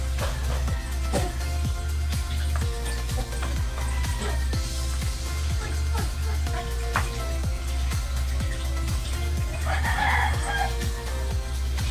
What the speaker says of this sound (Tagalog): Tapos ito yung sinasabi kong manok na